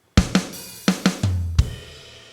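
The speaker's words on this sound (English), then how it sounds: "there's a drum fill that sounds like this." A short drum fill closes an eight-measure section: a quick run of about six hits, snare and toms, ending on a lower ringing tom and a final accent, played alone and fairly close.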